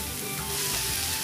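Carrots and fish fillet stir-frying in a pan, giving a steady, loud hiss of sizzling oil that runs through the brief stretch with no talk.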